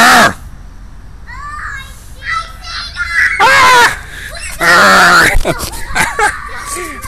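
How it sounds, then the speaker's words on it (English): Loud, harsh shrieks and screams in short bursts, mixed with excited shouting, during a zombie training seek-and-destroy game match. "Let's cut down the shrieking a little bit."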